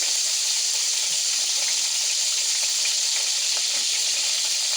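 Whole garam masala sizzling in hot ghee in a pan, a constant close, loud frying hiss with faint crackles, no talking.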